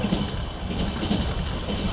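Train speeding through a station en route to Krasnoyarsk, heard as a loud continuous rumbling roar with rattling wheel noise and a steady hiss, close by.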